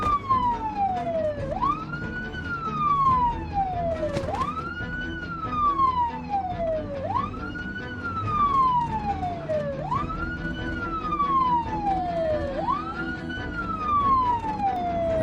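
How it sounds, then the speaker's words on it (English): Wailing truck siren in a zombie apocalypse video game, sweeping up and down in a steady repeating cycle about every three seconds, loud and continuous over a low engine rumble, with no voices. "driving around like an absolute nutter with the siren on"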